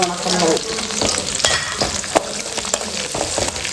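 Green chillies fry in hot oil in a pan, giving a loud, dense sizzle throughout. Sharp crackles and stirring clatters break through it, and no one speaks.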